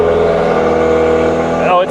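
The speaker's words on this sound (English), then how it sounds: "Oh, it's got an exhaust. It sounds like it's straight piped." A used Mazda 3 with a straight-piped exhaust revs loudly and steadily from close by, its engine note holding throughout before dipping at the very end; voices talk over it.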